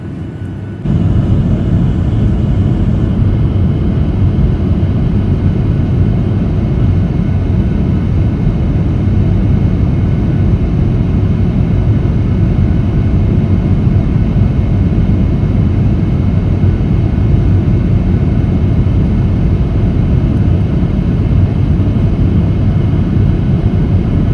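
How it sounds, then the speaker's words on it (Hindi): Oman Air airliner cabin in flight from Hyderabad to Muscat near the coast: a loud, continuous, even roar of engine and airflow noise that holds steady from start to finish. "अभी ये कोस्टल लाइन्स के पास से गुज़र रहा है प्लेन।"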